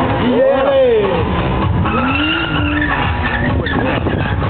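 Car drifting at a public drift event, with rising and falling tire squeal and skidding in the distance over engine noise and crowd murmur, while a voice talks throughout.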